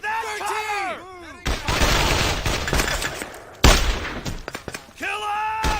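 Bursts of gunfire and explosive blasts fill a World War II firefight in Brothers in Arms: Hell's Highway, with a sustained volley in the middle and a sharp loud hit near the end, and voices shouting at the start and close.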